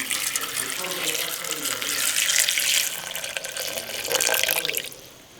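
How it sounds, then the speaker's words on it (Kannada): About 1000 ml of water is poured into a soup maker, a close, steady splashing pour rising and falling in two surges before stopping. "1000 ml ನೀರು ಹಾಕ್ತಾ ಇದ್ದೀನಿ."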